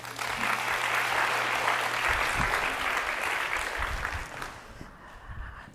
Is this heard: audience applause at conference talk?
yes